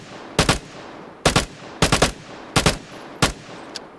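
Gunfire in the Vigor video game: short close bursts of two or three sharp shots each, fired in quick clusters with brief pauses between, then a faint single crack.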